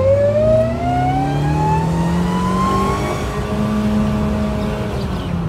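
A Baleno car's engine revs hard in reverse gear at full throttle, its pitch climbing steadily as it accelerates, loud and close with a continuous whining drone.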